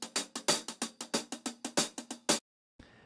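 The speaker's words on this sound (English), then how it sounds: "So I'm going to use the Lit Loops Hot Hats library." A live-played hi-hat loop at 93 BPM, crisp close strikes in a swung pattern with accented open hits, ending in a short silence.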